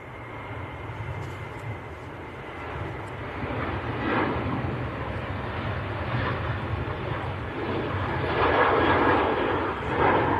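A TUI Boeing 737-800 bound for Malaga roars at Manchester Airport, its jet engine noise building steadily from a moderate rumble to a louder, fuller roar near the end.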